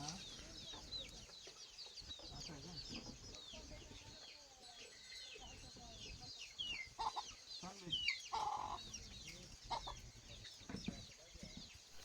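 Native village hens cluck steadily amid a busy farmyard, with overlapping calls and a few sharper squawks near and far.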